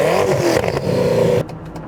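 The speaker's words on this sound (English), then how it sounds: "So Marcus, can you rev up the Agera, please?" Koenigsegg Agera RS revving hard in place while held in drive, a loud close engine roar rising and falling for about a second and a half before cutting off sharply.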